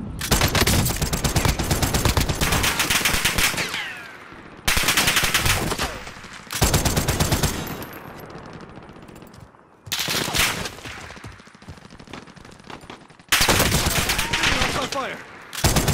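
Bursts of rapid automatic gunfire in a video game, four or five loud, dense volleys of a few seconds each separated by quieter lulls with fading echoes.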